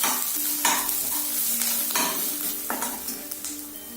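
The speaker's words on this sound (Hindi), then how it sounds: "हमें जिंजर को तब तक भूनना है जब तक इसकी जो रॉ खुशबू है वो चली नहीं" Ginger sizzles and fries in a hot pan for a home-cooked Bengali dal, with a spoon stirring and scraping in repeated strokes, loud and close with no voices.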